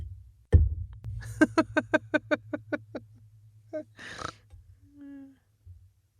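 A giant Stanley cup set down on a hard surface: one loud thud, then a fast run of rattling knocks that fade as it settles, followed by a brief scrape and quiet.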